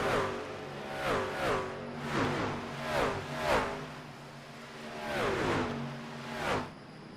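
Racing trucks in a sim racing game, a Sunday night truck series season finale at Homestead, roar past in a run of about seven loud engine pass-bys, each a rising whoosh that sweeps down in pitch.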